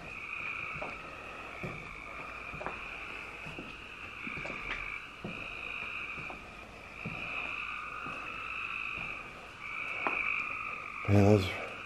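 A dense chorus of frogs croaks steadily outside an abandoned elementary school, with a continuous high trilling layer and repeated sharp pulses throughout, plus a brief louder burst near the end.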